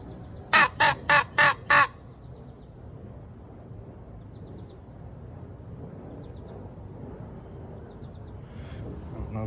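Handheld crow call blown outdoors gives five quick, loud, harsh caws in a row, followed by a quiet stretch of soft outdoor ambience with a steady high insect-like whine and a faint distant call later.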